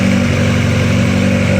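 Honda Accord engine running steadily just after starting, a loud, close, even idle hum with a low repeating pulse and no talking.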